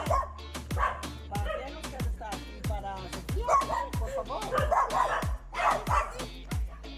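Several dogs barking at an animal sanctuary in Costa Rica, a rapid repeated chorus of loud close barks and yips with some whimpering mixed in.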